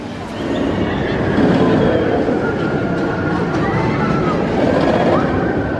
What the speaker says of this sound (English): B&M sit-down coaster with onboard sound.